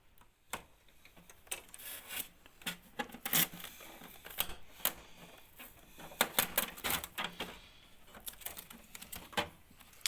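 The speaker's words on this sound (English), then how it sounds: "First of all, we have to open it and have to remove all the tapes." Packing tape is peeled and torn off a Canon Pixma G3020 printer in short, uneven rips and crackles, with faint ticks and handling sounds between them.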